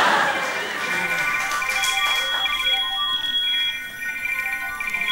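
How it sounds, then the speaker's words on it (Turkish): A phone ringtone plays a bright, repeating electronic melody inside a car, ringing steadily for several seconds and then briefly dipping near the end. "O nasıl telefon sesi ya?"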